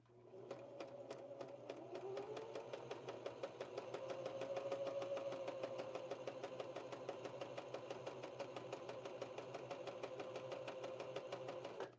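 A sewing machine stitches a doll in a rapid, even run of close mechanical clicks over a steady motor whine, continuous and fairly faint with no talk.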